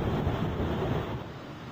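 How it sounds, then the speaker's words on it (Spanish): Roar of a waterfall about 30 metres high at the end of a trail in Gualaquiza, Morona Santiago, a steady, dense rush of falling water heard close and loud, with no voices. "el golpe de agua de una cascada de unos 30 metros de alto"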